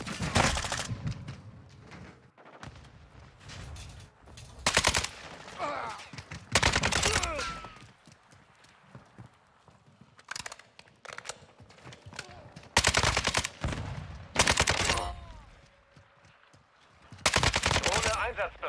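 Video game gunfire crackles in repeated bursts of automatic fire, loud bursts alternating with quieter gaps over a long stretch, with a player's voice occasionally heard between the shots.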